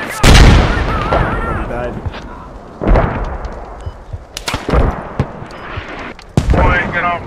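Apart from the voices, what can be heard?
mortar explosions in the video game Squad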